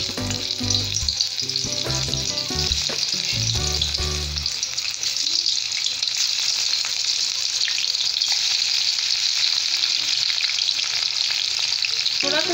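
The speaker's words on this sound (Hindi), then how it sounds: "थोड़ा थोड़ा बैचेस में कटहल अपने इसमें फ्राई करूँगी।" Pieces of raw jackfruit fry in hot oil in a kadhai, a loud, continuous close-up sizzle with low knocking and stirring bumps in the first few seconds, then an even steady hiss with no voices.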